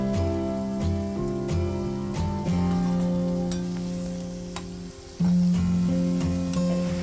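Khoya gulab jamun frying in oil make a continuous sizzle with light crackling, heard over a sustained tonal hum that stops briefly and returns, and there is no speech.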